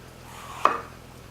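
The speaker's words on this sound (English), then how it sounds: "And I'm going to slice straight down." A chef's knife slices straight down onto a cutting board, giving a single crisp chop in an otherwise quiet room.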